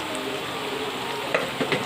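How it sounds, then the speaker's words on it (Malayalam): Curry leaves drop into oil with breadfruit slices frying in a pan. The sizzle is loud and close, a steady crackling hiss with a few sharper pops near the end. "കുറച്ച് വേപ്പിൽ ഇട്ട് കൊടുക്കാം."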